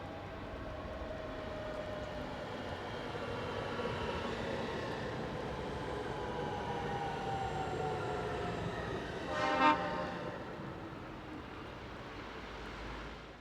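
Train 44313 arrives from the north as a low, distant rumble that swells gently, with a brief horn-like tone near the end, all fairly faint and heard without talk.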